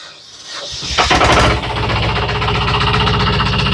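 A 25 hp small four-wheel-drive tractor with power steering cranks over, catches with a loud roar, then settles into a steady, close, rumbling diesel idle.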